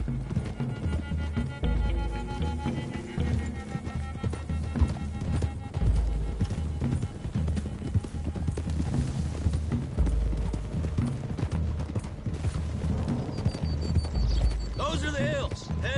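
Steady drumming of horse hooves at a gallop in Red Dead Redemption 2, continuous and fairly loud, with game ambient sound layered over it.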